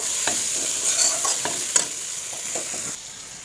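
Lentils get stirred into a frying tomato masala for cauliflower dal, with a steady close sizzle broken by quick rhythmic spatula scrapes and light clicks.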